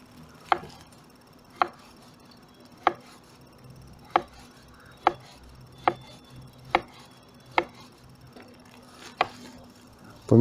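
A knife on a cutting board slices cucumbers into thin matchstick strips for chicken shawarma, about a dozen sharp, evenly spaced chops close by in a quiet kitchen.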